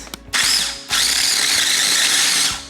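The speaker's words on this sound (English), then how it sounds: "I'm just gonna give it a quick whiz." A food processor whizzes a raw raspberry matcha slice crust mix of ingredients and a pinch of salt: a short blip, a brief pause, then a loud, steady whir for about two seconds before it spins down.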